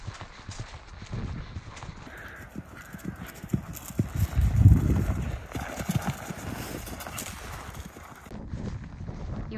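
Horse hooves clip-clop on ground during cross-country schooling, a steady run of close footfalls with wind buffeting the microphone and a louder thud midway.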